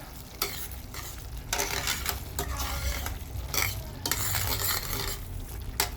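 A utensil scrapes and stirs cooked ground beef in a sizzling pan, with repeated scraping strokes over a steady fry, close and fairly loud.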